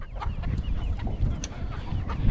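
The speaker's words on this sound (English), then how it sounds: "they had a bunch of baby chicks the day that we went, and so we came home with some more" Chickens cluck softly and repeatedly outdoors in a farm yard. The short, scattered calls come from a mid distance over a steady, rumbling background.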